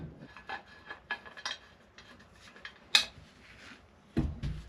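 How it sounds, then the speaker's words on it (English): A mast is screwed onto an aluminum hydrofoil fuselage, producing faint, scattered metallic rubbing and clicking contacts, with a few sharper taps spaced irregularly across a quiet background. "start by just screwing a mast on"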